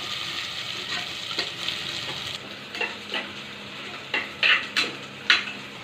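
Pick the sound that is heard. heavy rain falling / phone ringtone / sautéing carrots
sautéing carrots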